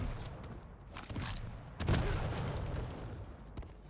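Rocket launcher fire and explosions from a Quake Champions match crackle through a dense, rumbling burst of blasts, with a louder boom near the middle trailing into a sustained roar.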